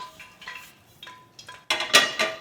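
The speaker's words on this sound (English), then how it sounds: "I need another skillet." A metal skillet is handled in a home kitchen, giving several sharp clanks and scrapes at uneven intervals that build into louder, ringing knocks toward the end, with no talking.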